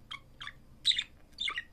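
A pet parrot chirps in four short, bright calls, two softer then two louder, spaced evenly and close by in a quiet room.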